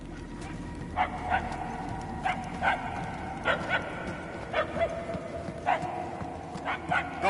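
Far-off barking from a single dog, paired and single barks spaced every second or so, set against a steady low-pitched background hum at moderate level.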